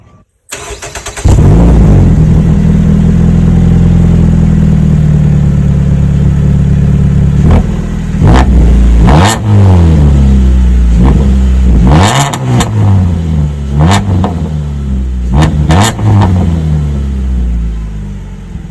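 A Dodge Dart engine starts and idles loudly nearby, then revs repeatedly in sharp bursts with a deep, throaty rumble through dual exhaust tips.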